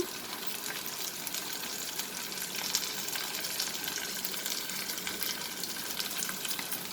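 Onion chicken fry sizzles steadily in a hot pan, a dense continuous crackle with faint scraping as it is stirred, close and alone without voices.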